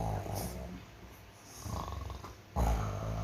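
A storyteller's voice imitates snoring, giving rough, rasping inhaled snores that repeat and grow louder, close and fairly loud.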